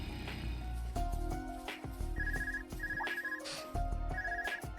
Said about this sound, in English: Oh, a phone call.